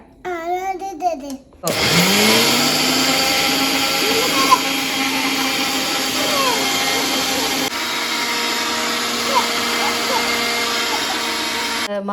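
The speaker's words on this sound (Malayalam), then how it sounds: "മിക്സ് ചെയ്ത് മിക്സിയിൽ അടി അടിക്കുക" A mixer grinder blending cake batter whirs loudly and steadily for most of the clip, starting abruptly after a brief moment of a voice.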